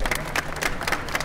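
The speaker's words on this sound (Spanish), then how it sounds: "Un aplauso, por favor, para el dibujo." A studio audience claps for a finished drawing at a televised team drawing contest, a steady patter of many hands with rhythmic bursts of louder claps, sustained and fairly close throughout.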